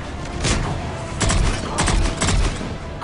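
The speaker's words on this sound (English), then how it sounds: "Concussive shot." Mass Effect 3 combat with the concussive shot ability firing: a few sharp, punchy blasts in quick succession over a continuous noisy battle background.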